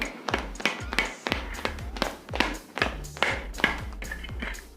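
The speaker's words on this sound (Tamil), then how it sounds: "இப்போ நெக்ஸ்ட்டு வந்து நம்ம இந்த கிளாத் வச்சு ஜஸ்ட் தட்டுவோம்" Rapid, irregular soft tapping of a cloth dabbed on a helmet visor, many light taps in quick succession, close up with no talking.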